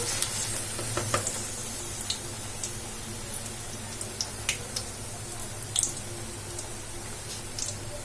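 Chili bajji, battered green chilies, frying steadily in hot oil, a continuous close sizzle with scattered small pops and crackles throughout, no talking.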